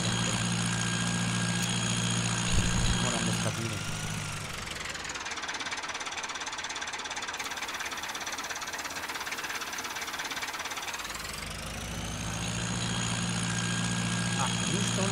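Tractor engine idling on a farm, a steady knocking diesel rumble that dips and then rises again with revs, close by, with someone talking briefly over it.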